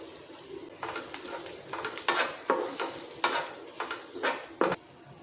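Chilies and ground peanuts sautéed in a pan give a sizzling hiss broken by a run of loud, rhythmic spatula scrapes and stirring strokes, close up, with no talking.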